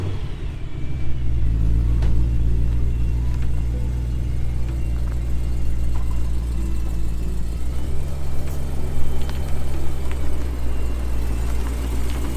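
A BMW E92 M3 with a V8 engine and pipe exhaust mod rolls into a workshop, giving off a steady, loud low engine rumble throughout with a few slight revs and no talking.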